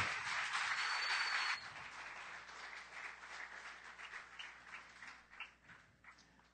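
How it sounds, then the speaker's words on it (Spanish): A church congregation applauding, a loud burst of clapping that fades after a second and a half into scattered, thinning claps trailing off in a reverberant hall. "Dale un aplauso al Señor."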